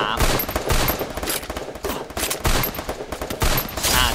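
Rapid automatic gunfire in the shooter game Garena Free Fire comes as loud, close bursts of repeated shots in quick succession, with brief pauses between volleys.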